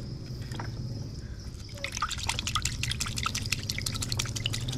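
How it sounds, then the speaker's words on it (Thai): Water sprayed from a hose onto potted red Indonesian banana plants in a nursery. It starts as a soft background hiss, then turns into a steady, close spattering spray from about the halfway point. "ก็ใช้น้ำยิงทีนึง"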